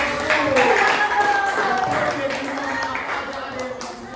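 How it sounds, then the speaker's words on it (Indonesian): Children in a classroom clap their hands together in a short burst of clapping while a teacher keeps talking over it. "Nah, tepuk tangan."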